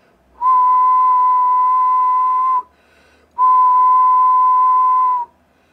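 Two long, steady whistled tones into a ham radio microphone on a Yaesu FT-891 run from battery, each held about two seconds at an even pitch with a short pause between, loud and close with no talk.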